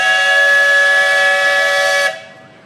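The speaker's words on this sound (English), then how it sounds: "This is steams up. What that means? The whistle call." A steam traction engine's whistle blows one long, loud, steady blast to summon the threshing crew before work, then cuts off abruptly, leaving faint low rumble.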